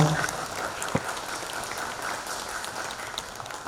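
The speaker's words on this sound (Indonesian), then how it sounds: "Berikan aplaus buat beliau." Audience applause at a farewell ceremony for a bank director in an indoor hall, a steady wash of clapping from a crowd that holds at an even level throughout without pauses.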